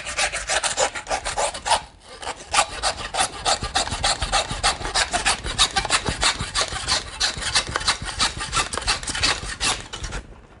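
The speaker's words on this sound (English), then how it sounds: "So 4-inch fillet knife, and that's separate. Just start my cut right down the middle." A 4-inch fillet knife cuts down the middle of a skinned deer carcass with continuous, rhythmic rasping strokes that go on for about ten seconds, close and fairly loud, with a brief pause near the start and no talking.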